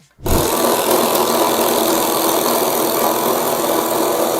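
A power drill bores holes into wooden side pieces and ends of a tool caddy, starting abruptly and running as a steady loud whine and grind close by, with no talking.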